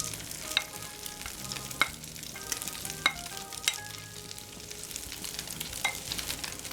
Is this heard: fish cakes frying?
yes